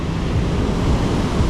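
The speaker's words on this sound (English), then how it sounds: "Those waves are very large. That's got to be at least an 8-foot wave." Large ocean waves, around eight feet, crash onto a sandbar as a hurricane passes, a loud, continuous low roar of surf mixed with wind buffeting the microphone.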